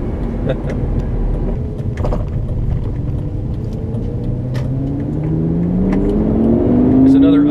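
A Lamborghini Gallardo with E-gear transmission accelerates in sport mode. The engine tone climbs steadily and grows louder toward the end, with a rumbling cabin drone and occasional clicks.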